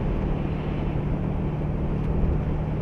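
Exhaust of a 2023 Ford Bronco Heritage with the 2.3L EcoBoost engine and a FlowMaster FlowFX muffler, a steady, mellow low rumble with a constant hum, idling evenly close by with no voices.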